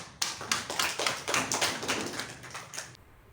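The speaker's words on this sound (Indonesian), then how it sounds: "Oke, tepuk tangan." A group of people clapping hands together in a class session, about a dozen quick, fairly loud rhythmic claps over three seconds before stopping.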